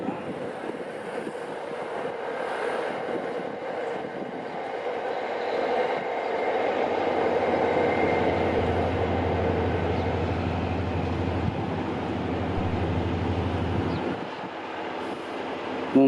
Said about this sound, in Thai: กรุงเทพพิษณุโลก ค่อยๆเคลื่อนตัวนะ